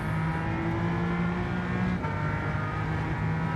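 Engine of a RUF RGT 4.2 wide-body sports car racing in Gran Turismo 7, a steady loud drone with a sustained low hum and faint tyre noise throughout, no talking.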